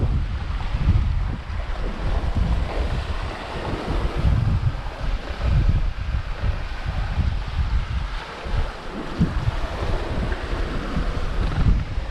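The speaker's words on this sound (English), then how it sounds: "we're still running with just the headsail out" A sailboat running under its headsail alone at six to eight knots, with a steady, loud rush of waves and wind noise buffeting the microphone throughout.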